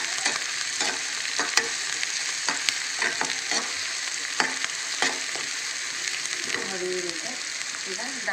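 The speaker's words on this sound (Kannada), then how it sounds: "ಎಣ್ಣೆಗೆ ಇದು ಮಾಡಿ ಫ್ರೈ ಮಾಡಿ, ಆಮೇಲೆ ಹಸಿಮೆಣಸಿನ್ಕಾಯಿ ಹಾಕ್ತಾಯಿದ್ದೀನಿ." Green chillies sizzle in hot oil in a pan as a spatula stirs and scrapes now and then, a steady close frying hiss broken by sharp clicks of metal.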